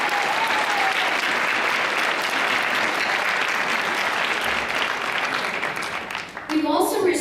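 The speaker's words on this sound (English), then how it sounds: "a big round of applause to all of us" Sustained audience applause fills the hall at the 2017 Taste Canada Awards Gala in Canada, a dense steady clatter of many hands that fades near the end before a voice begins speaking.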